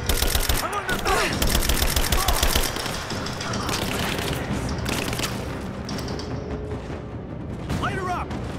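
Gunfire in Rise of the Tomb Raider: sustained rapid automatic bursts and scattered shots, loud and dense, with muffled booms and game voices mixed underneath.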